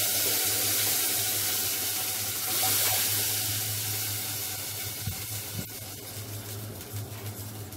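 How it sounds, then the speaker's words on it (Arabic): Tap water runs steadily over boiled pasta in a metal colander, a continuous close hiss and splash that swells briefly and carries on with small clinks and knocks near the end. "طلعتها صفيتها في مصفى وفتحت عليها الميه"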